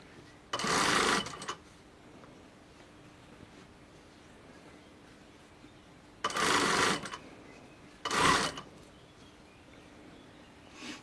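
A sewing machine stitches fabric for a zippered cushion cover in three separate bursts, a longer run near the start, then two shorter runs later, with quiet room tone between them.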